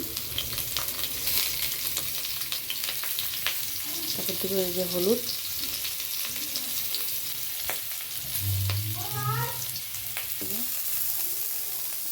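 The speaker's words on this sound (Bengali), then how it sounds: "এই যে কড়াই তেল গরম হয়ে গেছে আলু দিয়ে দিয়েছি" Potatoes salted and frying in hot oil in a kadai, giving a continuous soft sizzle and crackle with occasional stirring scrapes, while a person speaks over the cooking.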